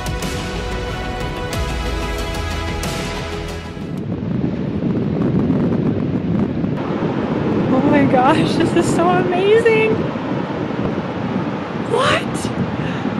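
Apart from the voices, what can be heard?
ocean waves and wind, west coast of Vancouver Island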